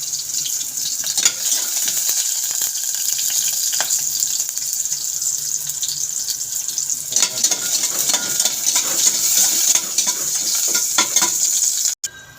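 Chicken pieces sauté in a pan for tinola with a loud, steady sizzle and a bright hiss, marked by intermittent crackles and stirring scrapes, then a sudden clunk near the end.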